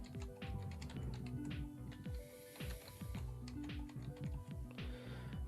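Computer keyboard typing of a login name and password during a software setup, with brisk, uneven clusters of close key clicks running continuously for several seconds, with no talk.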